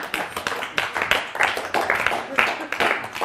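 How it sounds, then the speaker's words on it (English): A live lecture audience claps and applauds, irregular bursts of clapping mixed with voices and talk. "Give him a big round of applause"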